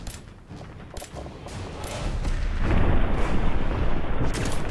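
Repeated M9 pistol shots in Fallout 4, a string of booming gunfire bursts over a rumbling game soundscape that swells louder toward the end.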